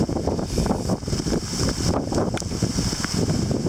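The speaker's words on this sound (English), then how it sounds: "Now the gusts coming in pretty strong." Gusty wind from a storm with hail buffets the microphone in uneven surges, with rough rushing noise rising and falling over a few seconds.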